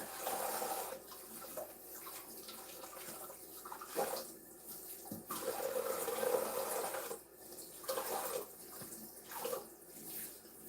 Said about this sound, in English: let me put some water